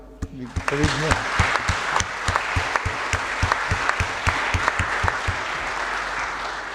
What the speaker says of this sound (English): let me please join me in a round of applause for Mark